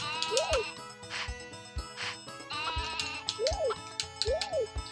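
Sheep bleat in the video game Harvest Moon 64, several wavering cries repeating over a bright, tinkling game melody.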